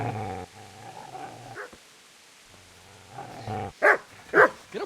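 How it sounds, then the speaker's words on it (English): Dog growling and then barking in the medieval game Kingdom Come: Deliverance, a low rumbling growl first, then a pause, then two loud sharp barks close by near the end. "Get away, you mutt!"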